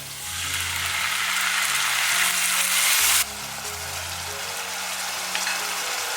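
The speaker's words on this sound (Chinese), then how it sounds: "再加入剁椒翻炒一会儿。" Steady loud sizzling of chopped red and green chili stir-frying in a hot pan, with a brief clatter of stirring partway through; no voices.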